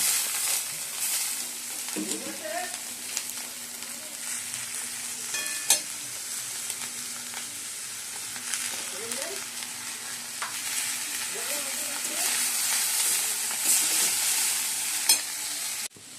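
Maggi noodles frying with onion stalks and potato crackle in a steady sizzle, with intermittent scraping stir strokes from a spatula and occasional clinks against the pan.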